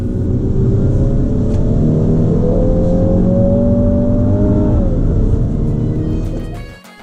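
A 2019 MINI John Cooper Works hatchback engine revs hard and steadily on a track, its pitch climbing into a strained howl before dropping off abruptly near the end, loud and close throughout.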